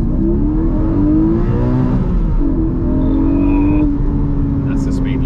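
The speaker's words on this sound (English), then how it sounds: "Let's just give you a first to second gear crescendo." Porsche Cayman GTS with its 4.0 engine pulls hard from first into second gear, a loud, steady in-cabin engine drone rising in pitch throughout with a shift near the middle.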